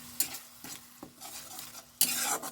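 Ginger and garlic stirred and fried in a pan for a lentil fritter curry, with a splash of water added. Soft sizzling runs under a few scraping stirs, ending in a louder burst of frying.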